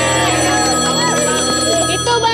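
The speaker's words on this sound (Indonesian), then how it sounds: "Telepon enggak, Pak? Angkat" Telephone ringing in a television studio during a live call-in show, a continuous electronic ring close and loud, with voices talking over it.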